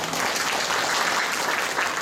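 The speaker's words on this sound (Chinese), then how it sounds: "我们给他掌声鼓励一下" Audience applause at a community meeting and Lunar New Year tea gathering in Longtan District, a steady wash of clapping from many hands throughout, moderately loud with no talk over it.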